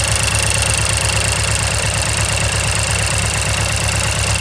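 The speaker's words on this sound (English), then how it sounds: "That loud ticking sound would be the fuel pump, and that's usually how loud they are." A steady, rapid mechanical ticking from the fuel pump of a first-generation Mazdaspeed 3 over a loud, constant engine hum, close up and unbroken throughout.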